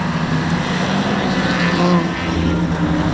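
A time attack car on a stock exhaust drives past with a steady, subdued engine drone. The low hum stays even and fairly loud throughout, with no revving spikes and no voices.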